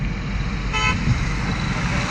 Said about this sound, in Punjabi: ਸੁਣ ਲਓ ਗੱਡੀਆਂ ਦੀ ਆਵਾਜ਼ ਇੱਥੇ ਕਿਸ ਨੂੰ ਹਾਰਨ ਮਾਰ ਕੇ ਪਰੇ ਕਰਨਾ ਪੈਂਦਾ